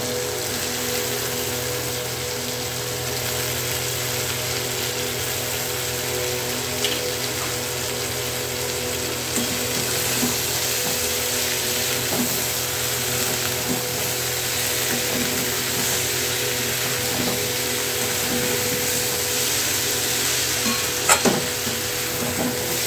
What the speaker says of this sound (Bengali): চিংড়ি মাছ দিয়ে একটু কষাবো